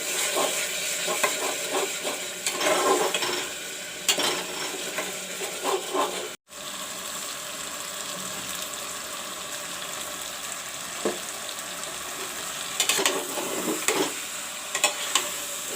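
Masala with red chili powder fries in a pan, a steady close sizzle and hiss with occasional stirring scrapes, one brief dropout partway through.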